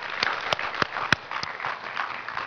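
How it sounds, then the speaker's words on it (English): Scattered hand claps of praise from a church congregation, a few sharp individual claps standing out over a thin, uneven patter, moderate in level without voices. "Give the Lord a hand clap of praise today."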